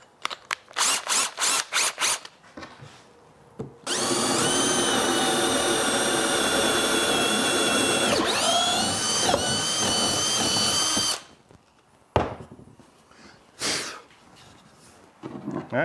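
Power drill fitted with a half-inch bit bores into a 2x4 for making wood dowels, a loud close whine held for about seven seconds, framed by short clicks and trigger bursts before and after.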